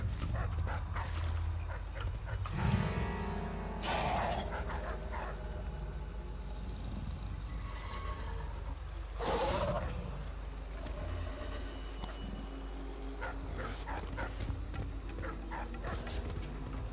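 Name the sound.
dogs barking in the video game Dishonored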